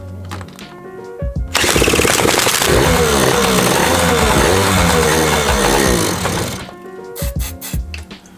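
A Yamaha PW80 dirt bike's small two-stroke engine fires up and runs for several seconds with a loud buzzing, wavering rattle, then cuts out, leaving sputtering knocks before and after.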